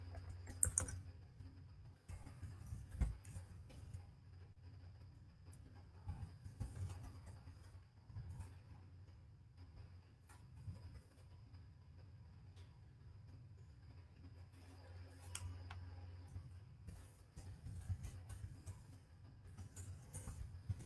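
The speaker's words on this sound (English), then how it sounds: "I'm just typing in the link address to it." Faint, quiet clicking of a computer keyboard as a link address is typed, irregular soft taps spread across about twenty seconds with a low background hum.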